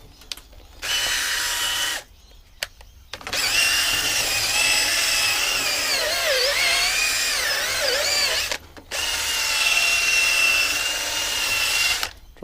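A stiff old bristle brush scrubs gunk and rubbish out of an Ajax/Myers 1 1/2-inch piston pump, a loud continuous scratchy rasping in long bursts broken by brief pauses, close up with no talking.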